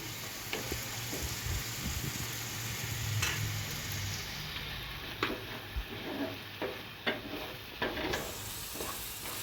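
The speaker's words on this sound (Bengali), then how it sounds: "সম্পূর্ণ পেস্টটা আমি দিয়ে একটু ভালো করে নেড়ে নিচ্ছি।" Onion-garlic spice paste fries in oil for a Hyderabadi egg curry, with a continuous close sizzle broken by repeated spoon-stirring scrapes every second or so.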